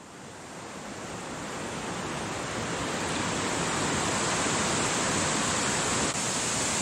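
High river water rushing at Meadow Run in Pennsylvania's Ohiopyle State Park, a loud, steady broadband roar that swells slightly and holds without a break, with no voices.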